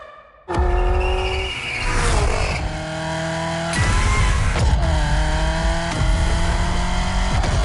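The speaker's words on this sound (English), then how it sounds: "Genti Automobile and their first creation, the Accolone." Genti Automobile Accolone car driving hard, its engine revving up through several gear changes with rising and falling pitch and some tire squeal, loud and close, with no talk.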